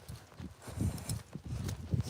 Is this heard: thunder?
no